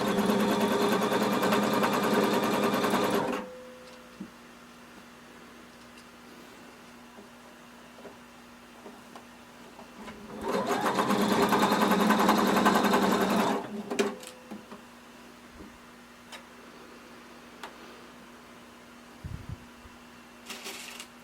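A sewing machine stitches through all layers of fabric at a 3/8-inch seam allowance with backstitching: two loud, steady whirring runs with a quiet stretch of faint handling noise between them, close up.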